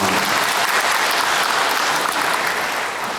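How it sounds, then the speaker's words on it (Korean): Dense applause from a large audience for a choir of disabled singers fills the whole stretch, loud and sustained, tapering slightly at the end. "다시 한번 여러분 뜨거운 박수 한번 보내주시기 바랍니다"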